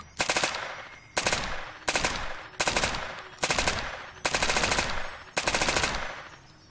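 A Colt M4A1 rifle fires in Fallout New Vegas, seven rapid automatic bursts each lasting under a second, separated by short pauses, loud and close with a ringing tail after each burst.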